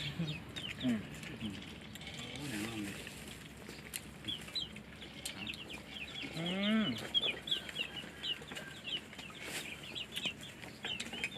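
Chickens cluck around a rural home in Kalasin, Thailand, with a few louder squawks and calls coming close at intervals. A person briefly murmurs.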